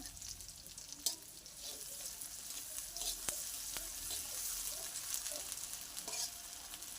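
Chopped onion and ginger-garlic paste fry in hot oil with cumin in a pan, giving a steady close sizzle broken by occasional scraping knocks of stirring.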